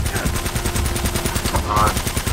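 World War II guns in Uncharted: Drake's Fortune fire in rapid automatic bursts, a dense, loud, evenly spaced rattle running throughout with a few brief higher metallic pings.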